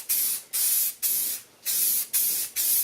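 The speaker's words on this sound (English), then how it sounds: "That yellow spray paint," Yellow spray paint from an aerosol can sprays in six short bursts of loud, bright hiss, about half a second each, separated by brief silent gaps, with no voices.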